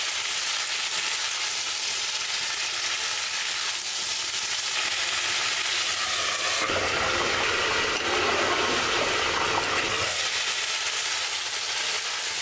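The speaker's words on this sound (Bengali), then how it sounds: "আলু ভাজি।" Potatoes fry in a pan with a steady, loud, hissing sizzle throughout, growing briefly harsher and louder in the middle before settling back.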